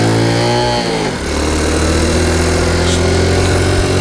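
A Honda Cub C90 motorcycle engine, loud and close, drops from a higher pitch into a steady low idle with a little throttle held on, running evenly with no other sounds over it.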